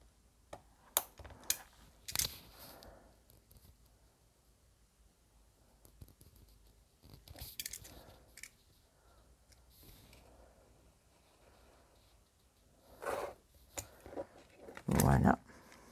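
Scissors cut a slit into paper for a pop-up hexagonal album, with faint scattered snips, clicks and paper rustles close by, broken by quiet pauses and a louder handling burst near the end.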